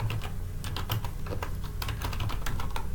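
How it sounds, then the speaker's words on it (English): Steady typing on a computer keyboard as a student's first and last name is entered into a registration form, a continuous run of quick, close, clicking keystrokes with no talk. "So I need to type in that student's first and last name."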